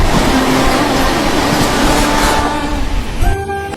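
A passenger train on the Tirupati to Puri run rolls along the tracks with a loud, continuous rumble and rattle heard from inside the carriage, easing slightly near the end.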